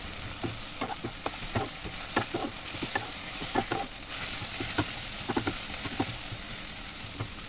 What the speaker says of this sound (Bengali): আমি সুন্দর করে নেড়ে চেড়ে শাকটাকে ভেজে নিচ্ছি।